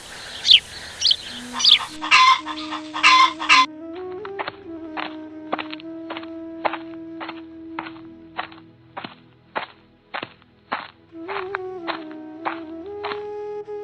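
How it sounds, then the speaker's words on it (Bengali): Cartoon birdsong: a burst of bright chirping twitters at the start, then a run of evenly spaced short clicking calls over a steady sustained tone, fairly close and alone without talk. "দেখি তো কোন পাখি ডাকছে"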